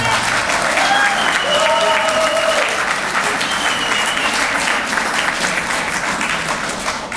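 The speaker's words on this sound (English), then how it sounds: "let me get another round of applause for her" Another round of audience applause at a Free Leonard Peltier gathering in New York City, a sustained, loud wash of clapping from a crowd, with faint voices and brief whoops mixed in, tapering a little near the end.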